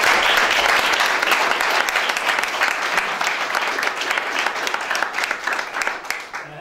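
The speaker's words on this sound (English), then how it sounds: "So I'd like us all to give them a round of applause." Audience applause at an MHD Promotions boxing press conference, a dense and steady round of clapping from a crowd that fills the room. It stays loud throughout and tapers off slightly at the end.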